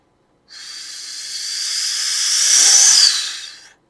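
A person imitates the steady air-leak hiss of a faulty diesel car turbo with their mouth, one continuous breathy rush that swells slightly louder before cutting off.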